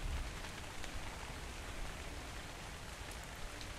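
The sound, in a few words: rain in a video game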